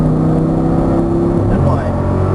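Audi R8 accelerating hard on a racetrack, with a loud, steady engine roar climbing in pitch near the end and continuing throughout.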